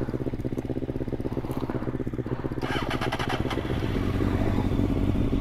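A sport motorcycle engine running, loud and close with a rapid chattering idle that rises into a rougher, heavier roar as the throttle opens near the end, with mechanical clatter on top.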